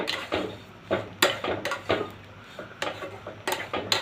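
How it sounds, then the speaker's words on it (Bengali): Small bread pieces stirred in a kadai over medium flame, with a utensil repeatedly clinking and scraping against the metal in irregular bursts, close and fairly clear, no talking. "নেড়ে নেড়ে একটু ভেজে নেব"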